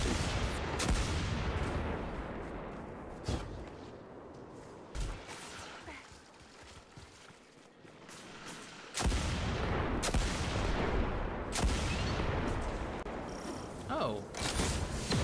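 Scorch Cannon fired in Destiny 2, heard as several sharp, loud blasts spaced a few seconds apart over dense game sound, with a quieter lull in the middle before the noise rises again.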